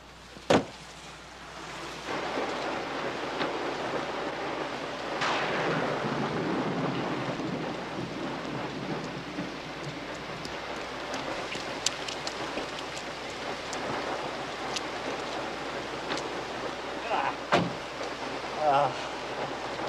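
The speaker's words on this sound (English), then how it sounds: "Sky's dark. It's gonna rain." Steady rain hisses throughout with a few sharp knocks and thuds, while a low rumble rolls in the background.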